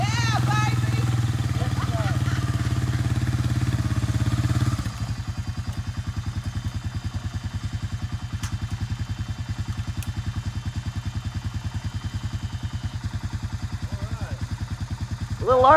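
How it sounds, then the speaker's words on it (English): A vehicle stuck in morning mud, its engine revving hard and then settling into a steady, rapidly pulsing drone as the tires spin. Loud and close throughout, with a brief rise at the very end. "He's sitting there just gunning it, spinning the fucking tires, burning the engine out of it."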